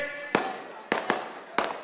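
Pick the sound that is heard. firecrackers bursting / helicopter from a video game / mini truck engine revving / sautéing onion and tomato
firecrackers bursting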